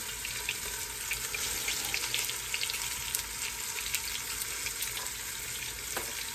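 Floured oxtails frying in very hot grease give a steady, dense crackling sizzle that holds loud and even from start to finish, with a few sharper pops rising out of the hiss and no voices over it.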